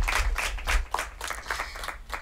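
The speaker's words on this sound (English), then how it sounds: "Let's give her a round of applause." A small audience claps in uneven, distinct bursts, individual hand claps audible rather than a dense roar, moderately quiet and fading in and out over a couple of seconds.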